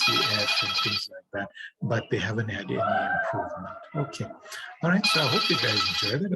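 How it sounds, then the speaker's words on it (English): Telephone rings in the background during a medical lecture, two loud electronic ring bursts at the start and end with someone talking between them. "Apologies for the phone in the background."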